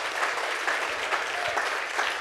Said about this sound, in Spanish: Yo no lo escuché, un fuerte aplauso.